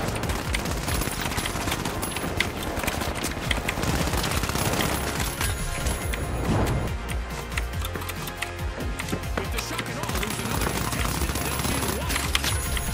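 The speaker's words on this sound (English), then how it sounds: "God, that little SMG goes hard." Rapid small-caliber SMG gunfire in a first-person video game, dense automatic bursts running nearly the whole time at close range, with a player talking over it.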